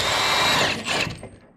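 Power tool, likely an impact gun or drill, zipping out old steering rack bolts on a Subaru BRZ during an LS engine swap, a loud continuous whir that winds down and stops.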